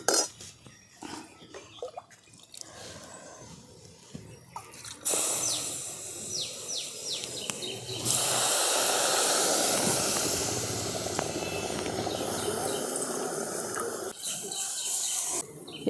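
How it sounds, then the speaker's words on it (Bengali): Water poured into hot dry-roasted semolina in a pan bursts into a loud, sustained hissing rush of steam and bubbling after some quieter clinks of a utensil, with no talking. "ডবল আমি জল দিয়ে দেবো।"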